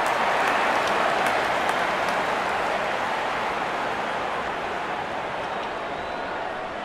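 A cricket stadium crowd cheers throughout a 2024 Afghanistan vs Ireland T20 international. The roar is broad, steady and loud, easing only slightly over several seconds.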